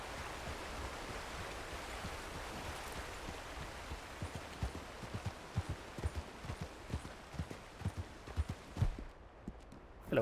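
Horse hooves clip-clop steadily at close range in Red Dead Redemption 2, a regular stream of soft thuds over a constant rushing water backdrop, with no talk.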